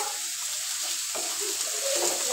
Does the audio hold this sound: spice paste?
yes